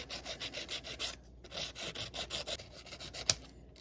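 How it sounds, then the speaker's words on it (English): A drop-in sewing machine bobbin case is sanded by hand in quick, rhythmic back-and-forth rasping strokes, close and fairly quiet, with a brief pause and a small click near the end. "I'm going to try to sand out some of this and see what happens."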